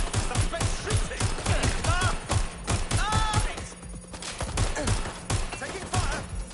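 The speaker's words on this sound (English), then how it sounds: "Taking fire." Rapid bursts of gunfire from a suspect in a PS4 police shooter game crack out in dense, repeated volleys, loud and close, with radio-style game voices speaking between the shots.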